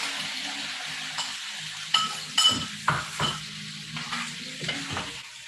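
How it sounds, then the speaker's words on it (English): Egg being stirred through tortillas in a pan, with soft scraping, stirring and sizzling plus a few clinks of a utensil against the pan, close up and moderately loud. "And just mix it around so that egg is done and all over"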